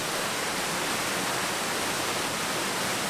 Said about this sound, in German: Da sieht man hier den Wasserfall.